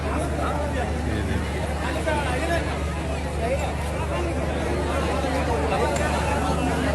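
A huge, dense crowd gathered at a Bolbum song shoot in Patna, a steady, loud babble of many overlapping voices with a low rumble underneath and no pauses.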